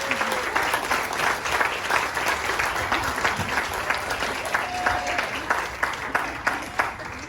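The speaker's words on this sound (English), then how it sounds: "Give them a round of applause because they've done a great job." Steady applause from an audience at a medical wing ceremony, dense clapping sustained throughout at moderate loudness with faint voices mixed in.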